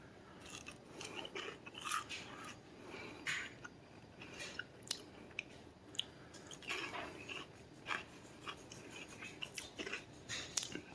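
Someone bites into crispy air-fried chicken strips, making a run of crunchy bites and chewing at close range, quiet but distinct crackles spread over several seconds with no talking.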